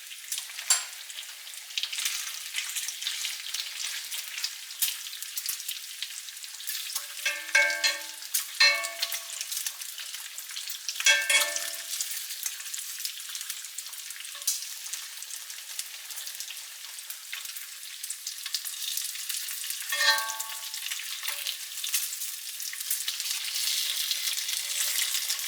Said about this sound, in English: The sizzling is calm